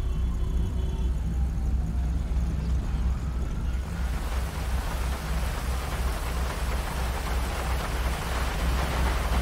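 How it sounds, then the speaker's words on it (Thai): Rain falls steadily as a dense, continuous hiss that swells louder and brighter partway through, with a low rumble underneath and no talking. "มีฝนตกด้วย"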